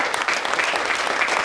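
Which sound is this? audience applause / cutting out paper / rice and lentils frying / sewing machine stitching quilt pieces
audience applause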